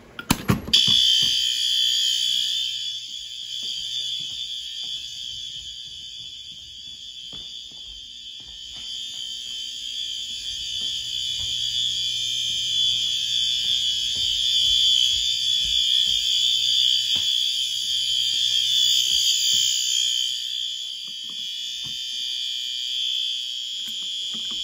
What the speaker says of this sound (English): And let's just pull the alarm.